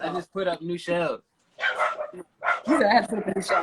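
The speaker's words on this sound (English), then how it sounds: "That's my dog." A small pet dog barks a few times at home, sharp yips mixed in under a person speaking close to the microphone.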